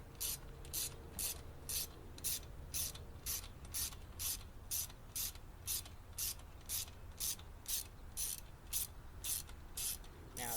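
A ratchet loosens a bolt on a dirty lawn mower carburetor, producing a steady series of about twenty crisp, evenly spaced clicking strokes, close and fairly quiet.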